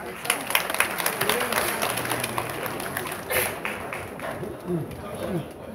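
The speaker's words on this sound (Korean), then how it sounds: "박수 한번 부탁드립니다." Audience clapping at a Korean student council gathering: a scattered burst of hands at first, continuing more lightly under voices talking.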